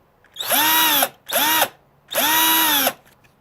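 A new Ryobi power drill revs in three close, loud bursts, each whining up to speed and winding down, with short pauses between them.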